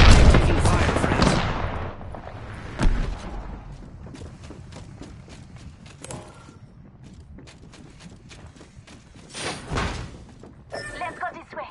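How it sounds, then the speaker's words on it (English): Gunfire in a shooter video game during a duos match: a burst of loud shots at the start, then scattered sharper cracks and thuds over a busy game background. "I'm getting shot at."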